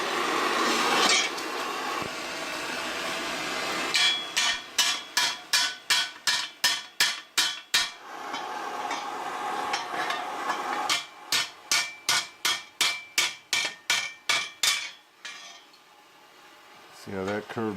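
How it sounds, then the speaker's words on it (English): A hammer strikes metal on an anvil in a long run of sharp, ringing blows, some fast and evenly spaced, with brief pauses between bursts and a short squeal near the end. "Use this hammer to try to smack it a few times."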